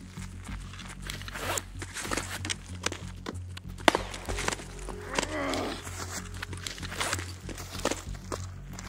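Footsteps from an enemy squad on an upper floor in Escape from Tarkov, heard as a steady run of light scuffs and thuds with a few sharper clicks, fairly soft and spread through a busy ambient background.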